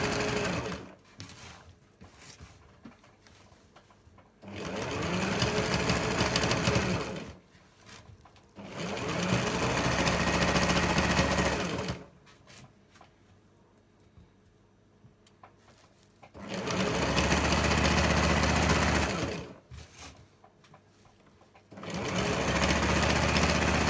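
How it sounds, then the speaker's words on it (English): Sewing machine stitching fabric for an Iro and Buba outfit, loud close steady whirring runs of several seconds each, starting and stopping four or five times with quiet pauses between. "Whenever you are sewing, make sure you back stitch your sewing so it won't lose at the end."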